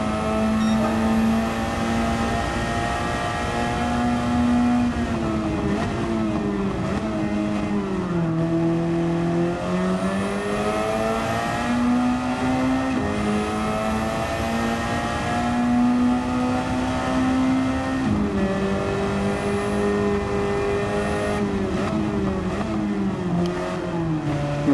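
A race car engine in a video game, driven around St. Croix Circuit, drones steadily with rising and falling pitch as it accelerates, shifts and eases through corners, loud and close throughout with no talking.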